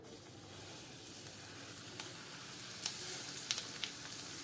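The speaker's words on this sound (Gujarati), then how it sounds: "ચાર ચમચા આપણે ગરમ તેલ ઉમેરવાનું છે" Hot oil poured into an instant carrot pickle sizzles steadily, with bright crackling pops rising over a continuous frying hiss, close and alone.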